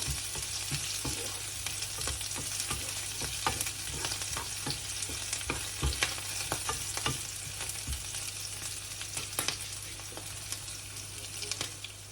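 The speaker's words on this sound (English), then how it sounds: "I've taken around 3 cloves of garlic and 4 chilies, green chilies. So saute it well." Garlic cloves and green chilies sauté in oil in a pan for dosa chutney, producing a dense continuous frying crackle with frequent sharp pops and stirring scrapes, close and steady throughout with no talking.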